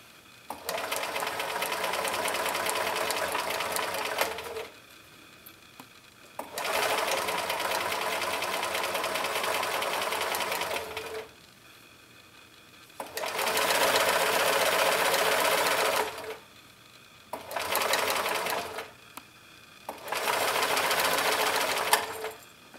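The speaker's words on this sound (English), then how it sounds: "And I'm going to sew right on the pencil line." Domestic sewing machine stitching a gentle curved seam through layered quilting fabric along a pencil line, running in five steady bursts of even motor whir and needle chatter separated by short pauses, close and clear with no talk.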